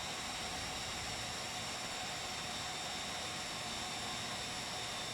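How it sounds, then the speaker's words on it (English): An MB339 jet idles and taxis on an aircraft carrier deck in Microsoft Flight Simulator: a steady, even turbine whine and rushing hiss hold constant throughout, close and unbroken with no rise in power. "Little bit of throttle to get her started, and then back to idle, and she just pushes herself along nicely"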